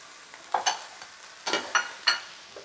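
Mushrooms going into a frying pan with onions give a few short sizzling bursts and scraping stirs, close and quiet, with no talk.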